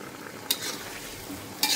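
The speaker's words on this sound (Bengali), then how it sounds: "এই যে পাঁচফোড়ন ভেজে নিচ্ছি, শুকনো মরিচ ভেজে নিলাম।" Panch phoron and dried chillies fry in mustard oil with a steady, close sizzle, broken by two brief scraping stirs of a utensil against the pan.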